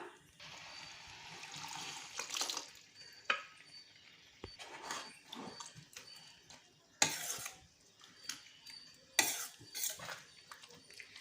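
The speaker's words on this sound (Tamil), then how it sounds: "கொஞ்சமாக தண்ணி ஊற்றிக்கலாம்." Water poured into a pan of araikeerai spinach kootu, a brief splashing pour among clinks of utensils and stirring in a kitchen.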